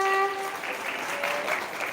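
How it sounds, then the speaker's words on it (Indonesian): Audience applause at a storytelling event, a short burst of crowd clapping that rises after a brief tonal sound at the start and continues steadily, moderately loud, without speech on top. "Lebih semangat dong, kasih tepuk tangannya."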